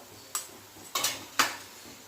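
Spices being stirred into hot oil in a pan for a Marathi-style vegetable dish: three sharp utensil scrapes and clinks against the pan, spaced about half a second apart, over a quiet background.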